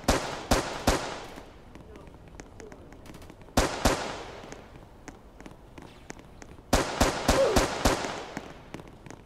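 Gunshots in a Roblox shooter game: three sharp clusters of rapid cracking shots, each ringing out and decaying, separated by quieter stretches of light ticking and footstep-like taps.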